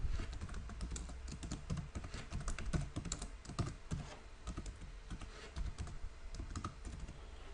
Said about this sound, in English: I'll just click and start typing